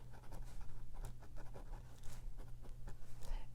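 A pen scratches out a handwritten label in quick, close strokes, giving a steady run of short scratchy bursts over a low hum.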